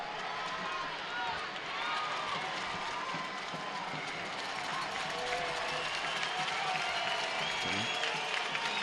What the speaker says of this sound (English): Crowd at the Lab starting to come alive here